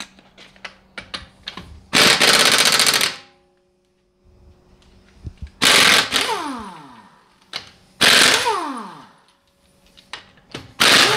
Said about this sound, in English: you need a 21 millimeter lug nut socket to remove these